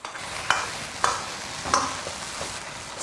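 Shredded lamb stir-fries with ginger, scallion and garlic in a cheap ordinary iron wok, a continuous close sizzle broken by several sharp spatula scrapes and clacks at roughly even intervals, no talking.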